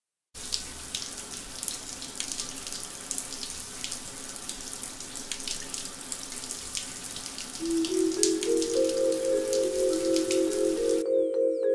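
Steady rushing of running shower water fills the scene, continuous and fairly loud, with a rising pitched tone joining in near the end before an abrupt stop.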